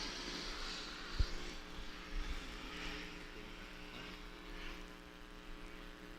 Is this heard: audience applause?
no